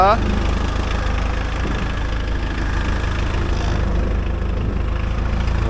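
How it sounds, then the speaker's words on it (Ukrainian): A homemade mini tractor engine idles with no throttle, giving a loud, steady, close chugging drone with a faint knocking throughout, and someone speaks over it. "На холостому ходу, без газу, без нічого."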